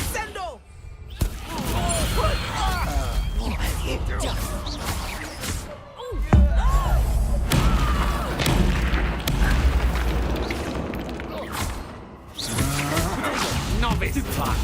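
A Descendo spell slam in the video game Hogwarts Legacy, heavy booming impacts amid a dense, loud stream of combat effects, with a voice talking over the action.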